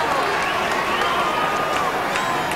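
A football crowd at a 1991 Swans versus St Kilda match roars and cheers steadily as a player returns to the field, a dense distant wash of voices with a commentator talking over it.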